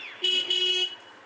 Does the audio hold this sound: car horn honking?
yes